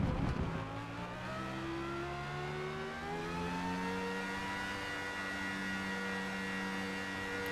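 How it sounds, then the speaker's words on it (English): A car revs up during a test drive in a Forza video game, its engine climbing steadily in pitch through first gear toward the redline, loud and alone with no talk. "go in and do a little test drive here so we can get the max RPM speed and then max speed in first gear"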